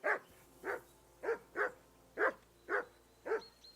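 Dog in the video game Kingdom Come Deliverance II barking repeatedly, seven sharp evenly spaced barks with a whimpering edge, fairly close and clear, with no talk over them.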